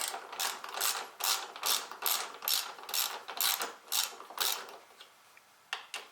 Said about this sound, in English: grab your 12mm, and let's see if I can get a better frame, and start turning